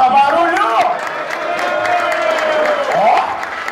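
A crowd at a fight event bursts into applause and cheering for a DJ, with sustained clapping, whoops and shouting voices that swell again near the end.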